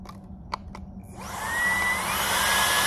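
A LEVOIT cordless vacuum cleaner starts after a few faint clicks, its motor climbing to a loud, steady, high whine on turbo boost, close by and with no voices.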